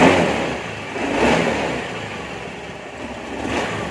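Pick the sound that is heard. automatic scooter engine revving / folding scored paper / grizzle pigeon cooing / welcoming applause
automatic scooter engine revving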